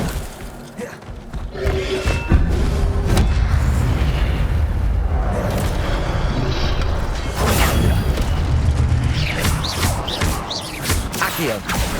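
Incendio fire spell casts in Hogwarts Legacy, a continuous loud roar of booming blasts and crackling fire that sweeps across the whole stretch with shifting thuds, no speech over it.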